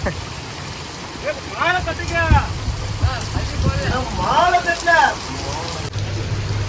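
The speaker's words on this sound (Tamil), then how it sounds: "மழை இன்னும் நிற்கிற மாதிரியே தெரிலங்க இந்த மாதிரி அடிச்சுக்கிட்டே இருக்குன்னு பாருங்களேன் ஃபுல் ஃபோர்ஸாக உழுந்துகிட்டே இருக்கு மழை" Heavy rain pours steadily on a deep-sea stay-net fishing boat, a dense hiss running throughout while someone talks over it.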